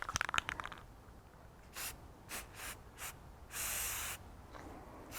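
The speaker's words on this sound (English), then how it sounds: "I'm just going to do a little bit of a spritz of the enamel on it." Spray enamel is spritzed onto a craft pumpkin in several short, close hissing bursts, followed by one longer steady spray, with quiet gaps between and no speech.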